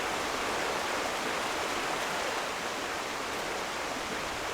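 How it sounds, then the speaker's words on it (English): A waterfall in the Final Fantasy XIV video game rushes as a steady, even hiss of falling water that carries on without a break at a moderate level. "let's get that waterfall even louder"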